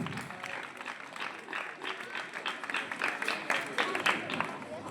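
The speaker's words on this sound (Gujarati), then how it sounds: "આપણે તાળીઓના ગડગડાટથી એમને વધાવીશું." Applause from the audience at a village primary school's Republic Day celebration in Gujarat: a crowd claps steadily at moderate volume, growing a little stronger toward the end, with faint voices underneath.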